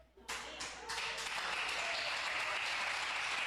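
A church congregation breaks into applause, rising quickly after a quiet start and then holding as a steady, dense patter of many hands to the end.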